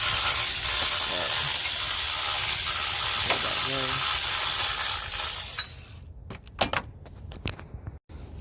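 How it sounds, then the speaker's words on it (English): A cordless electric ratchet runs loud and close, buzzing steadily for about six seconds while loosening tight 14 mm bolts on a cooling fan pulley bracket, then stops and gives way to a few clicks and clanks of metal. "I'm gonna take my electric ratchet, and they're 14, and again they're on there really tight"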